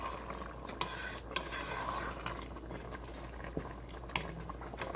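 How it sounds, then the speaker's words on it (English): Paneer vegetable curry boils vigorously in a pot on the stove, a steady bubbling hiss with scattered small pops and occasional faint clinks, heard close and alone. "So it's boiling a lot."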